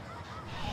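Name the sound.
domestic geese honking in a park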